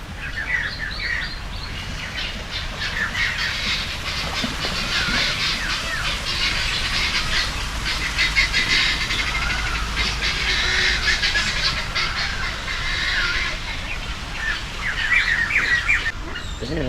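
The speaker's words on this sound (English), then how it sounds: "Look at this beautiful bird." Exotic birds in a Kuala Lumpur bird sanctuary squawk, chirp and call continuously, many overlapping voices at moderate distance forming a dense, steady chorus throughout.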